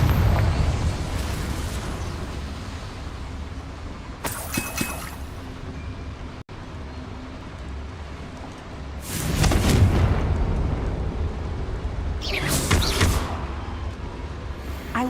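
Confringo spell blowing up a boiler in Hogwarts Legacy: a low rumbling fiery backdrop broken by three separate loud bursting blasts, each with a sharp crack and crackling debris tail, spaced a few seconds apart.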